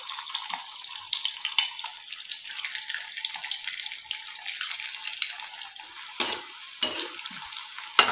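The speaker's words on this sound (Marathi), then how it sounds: "आता आपण यामध्ये जे आपण बॉल्स डुबवून घेतलेले आहेत ते टाकूया आणि यांना चांगलं लालसर रंग येईपर्यंत तळून घेऊया" Potato balls dropped into hot oil to deep fry produce a loud, dense, continuous bubbling sizzle that briefly dips and surges near the end.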